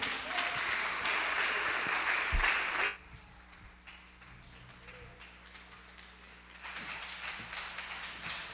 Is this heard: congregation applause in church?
yes